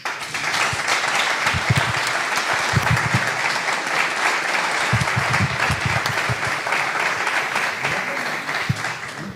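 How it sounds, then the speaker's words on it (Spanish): Audience applause fills a Hispanic heritage event honoring a speaker. The clapping is loud, sustained and dense throughout, with a few sharper claps standing out close by. "Un aplauso para Zacarías"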